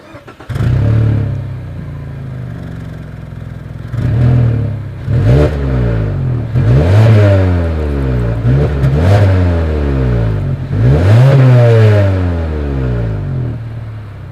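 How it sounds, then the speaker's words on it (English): Loud, close car exhaust revving in several repeated bursts, each rising then falling back to a rumbling idle between blips. "As always, here is that exhaust clip."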